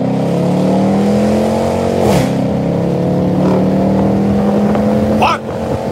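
A Chrysler 300 engine revs hard and steady through a burnout, its loud, close drone rising and dipping briefly before a sharp upward whine near the end.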